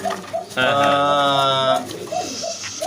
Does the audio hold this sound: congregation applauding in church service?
no